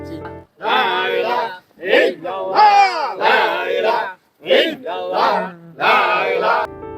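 Dhikr is chanted at a Bishwa Ijtema gathering in Manikganj, heard as loud, tuneful voiced phrases in rhythmic bursts separated by short pauses, close and clear.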